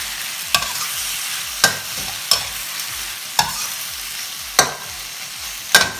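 Prawns stir-fried in a hot pan with sauce, a steady sizzle broken by regular sharp scrapes and knocks of the spatula roughly once a second.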